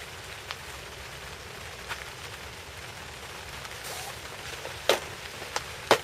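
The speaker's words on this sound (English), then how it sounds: "Do apologise about the rain if you can't hear us." Steady rain patters throughout on a carp fishing bivvy, a soft continuous hiss with a few sharper drips and taps near the end.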